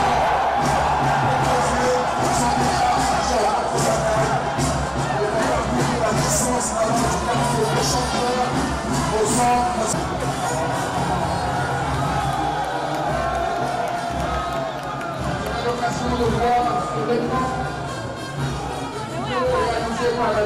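A large crowd cheers and applauds at a military parade as airborne troops and special forces pass, a dense and continuous roar of voices and clapping that stays loud throughout.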